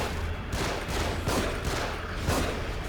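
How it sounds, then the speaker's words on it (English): Enemies fire guns in The Evil Within: a loud, dense volley of overlapping gunshots and heavy thuds rattling continuously throughout. "Get to cover. They're shooting from above."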